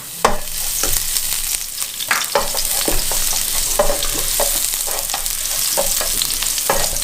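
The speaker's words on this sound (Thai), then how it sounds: "ใส่ น้ำมันลงไปเลย ไม่ต้องเยอะนะครับผม พอประมาณนะใส่กระเทียมไปเลยครับ เพื่อให้หอมนะครับ" Garlic frying in a modest amount of oil in a pan, stirred, while spicy chicken macaroni is being cooked. A steady close sizzle runs throughout, with repeated sharp scraping and clinking strokes as it is stirred.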